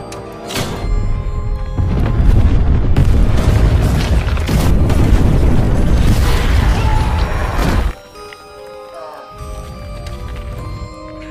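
In a Rambo film, a tunnel is blown up with a huge explosion: a heavy, booming blast with sustained crashing rumble for several seconds, cutting off abruptly into a quieter, low ambience.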